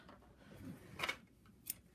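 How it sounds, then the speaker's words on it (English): Scissors snip through crochet yarn in a quiet setting, one short crisp cut followed by a smaller tick, close and faint with no talking. "you can just pull out the loop and cut it like that. My scissors."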